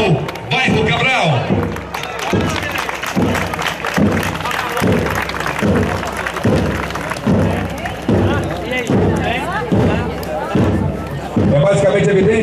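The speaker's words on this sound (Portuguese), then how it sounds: "Vamos aplaudir, senhoras e senhores, a Escola Municipal Bairro Cabral" Crowd applause at a municipal school parade, with clapping and babble layered over a loud, steady marching drum beat that keeps pulsing throughout.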